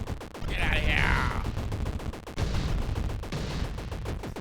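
Missile turrets mounted on towers fire in a sci-fi video game level, giving a dense run of loud, overlapping gunfire-like blasts with a bright whooshing burst early on and a second volley midway.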